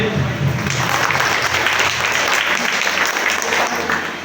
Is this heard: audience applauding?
yes